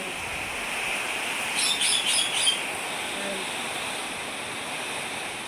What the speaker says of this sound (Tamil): இங்கே வேறு மழை வேறு பெஞ்சிட்ருக்கு